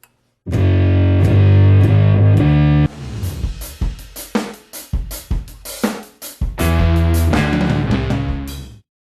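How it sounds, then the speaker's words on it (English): Electric guitar driven through a Sound Blocks Pro Classic Distortion pedal: thick, saturated sustained chords, then a stretch of choppy palm-muted stabs, then a return to long ringing distorted chords, loud and up close with no talking. "if you pair that with a pretty intense distortion, here I'm using the Sound Blocks Pro Classic Distortion"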